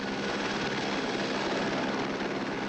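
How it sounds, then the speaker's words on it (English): A search and rescue helicopter working over rough, windy terrain produces a steady rotor and engine drone, moderately loud and continuous through the whole short stretch, with no speech. "A helicopter was needed to reach the body"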